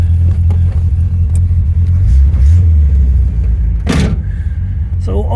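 A 1969 Corvette with an aftermarket exhaust rumbles steadily while driving, its low engine note rising and dropping as gears are shifted, with a sharp burst of wind or handling noise near the end.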